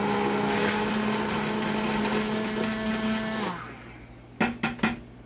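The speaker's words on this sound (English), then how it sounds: "So I'm just gonna put this in and kind of blend it a little bit to get the stuff off." A blender whirs loudly and steadily through a home canning mixture, its motor pitch wavering slightly before it cuts off, followed by a few sharp clanks as it is handled.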